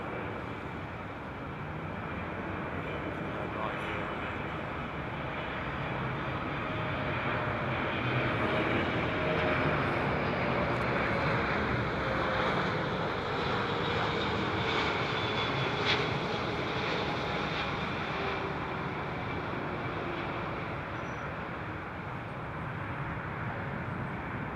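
A United airliner taxis at Heathrow Airport ahead of Storm Ciarán, its engines a steady broad roar that swells slightly and stays distant, with no talking.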